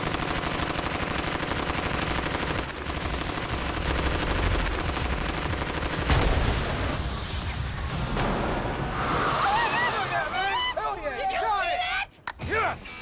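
A gun fires in rapid, sustained bursts, loud and dense, layered over rushing noise with voices mixed in and a few sharp clatters near the end.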